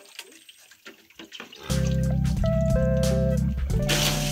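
Water gushes steadily from a hose as pigs are washed on a small farm in Jamaica, starting after a quieter moment and running loud and continuous with a faint tonal hum, close by.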